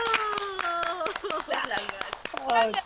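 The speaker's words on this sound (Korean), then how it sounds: "박수" An audience claps in sharp, regular beats at a lively stage performance, with voices carrying over the rhythmic clapping.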